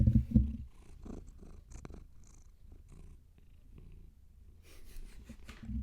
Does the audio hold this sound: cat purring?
yes